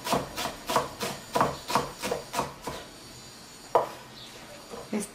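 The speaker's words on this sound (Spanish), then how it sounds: "finito, finito, finito que pica la lechuga" Lettuce is chopped finely with a knife on a board in a home kitchen, a quick run of about nine sharp, evenly spaced thuds followed by a pause and a few scattered cuts, close and fairly quiet.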